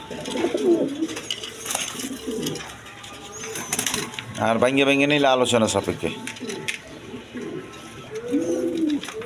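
A pair of pigeons on a farm coo softly in low, rounded calls near the start and end, mostly under someone speaking steadily in the foreground.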